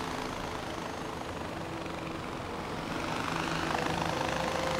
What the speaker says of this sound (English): Right, back in the helicopter.